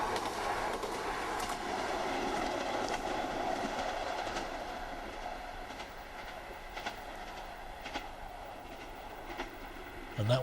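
A train from Cleethorpes runs along the railway line near old station houses, a low steady rumble with faint clicking over the rails, fairly distant and quiet, with some talk faintly underneath.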